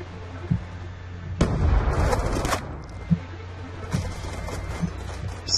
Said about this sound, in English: Somebody shooting over there, and I can't see where they are.